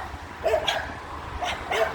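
Dogs bark and whimper in short yelping bursts, two clusters of high cries separated by a pause, heard at moderate distance over a low background hum.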